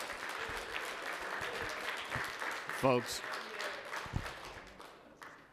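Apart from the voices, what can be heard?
audience applauding in city council chambers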